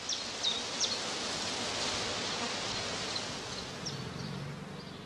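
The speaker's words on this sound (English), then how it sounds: "If a prime swarm is not prevented from flying, it first settles close by" A prime swarm of honeybees from a traditional straw skep in a northern German heathland, heard as a steady, faint, diffuse hum with occasional nearer buzzing passes, outdoors without talk.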